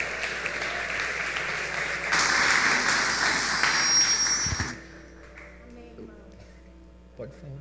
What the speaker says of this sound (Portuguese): aplauda Jesus por eles